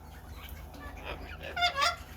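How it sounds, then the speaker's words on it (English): A yellow-tailed black cockatoo gives a short, harsh call at moderate distance, rising into two louder wailing notes near the end over a low background hum. "Big yellowtail black cockatoo."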